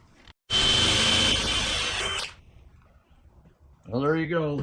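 An electric drill bores holes in a green wood stool seat, making a loud, steady whir of about two seconds that stops abruptly, followed by quiet and then a person speaking.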